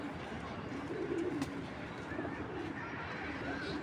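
A long-distance racing pigeon coos in low, throaty bursts, close and fairly clear above a soft background hiss, with no talk.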